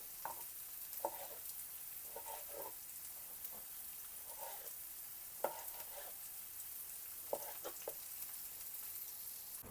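Soft, steady sizzling of food frying over high heat in a pan, broken by short clinks and scrapes of stirring at irregular intervals.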